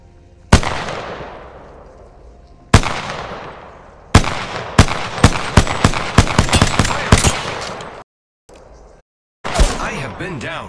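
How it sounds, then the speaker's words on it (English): Gunfire in the battle-royale shooter Apex Legends: a few separate loud shots with long decaying tails, then a dense rapid burst of repeated shots, a brief gap, and more firing near the end. "They're shooting at me."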